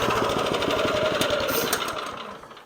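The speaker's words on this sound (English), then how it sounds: "Let's go ahead and turn off the mower here." A 25-inch California Trimmer Catalyst reel lawn mower engine runs with a loud, chugging putter that fades and winds down toward silence as the mower is shut off.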